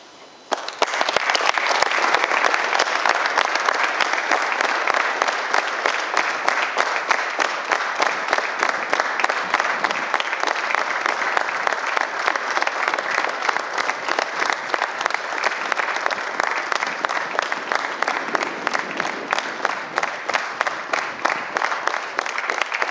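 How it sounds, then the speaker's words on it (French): A crowd at a track cycling omnium in Hyères gives a minute of sustained applause in tribute to Marie Antoinette Canu, many hands clapping densely and evenly throughout with no talk. "qu'on l'honore justement avec une petite minute d'applaudissement"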